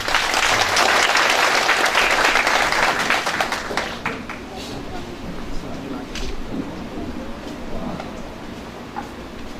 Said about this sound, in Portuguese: Salva de palmas aqui para mano